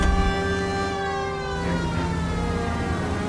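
A police car siren wails continuously in the L.A. Noire video game, loud and close, with its steady tone sliding slowly and filling the whole stretch alone.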